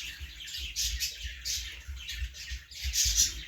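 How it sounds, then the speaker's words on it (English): Outdoor birds squawk and chirp in repeated bursts, fairly close and steady over low rumbling background noise, with no voices. "But now the birds are singing."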